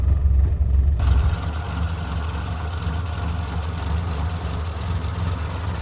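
A restored 1968 Morris Traveller's 1098cc A-series engine idles steadily under the open bonnet, a continuous low rumble heard close up. A louder rough burst at the start settles into an even hum.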